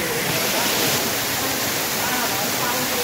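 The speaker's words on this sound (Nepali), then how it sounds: "सिन्ती झरना यो हो सिन्ती झरना।" Sinti waterfall near Sauraha, Nepal, a dense, steady roar of falling water close by and loud for the whole stretch, with no break in the rush.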